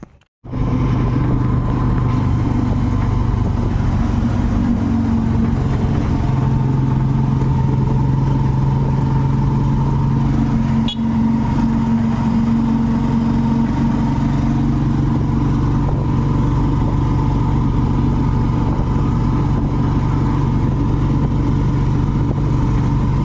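A tricycle engine runs steadily throughout at a mid-pitched drone, close and loud, with heavy rain noise around it and no speech.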